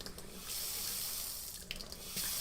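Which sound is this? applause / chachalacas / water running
water running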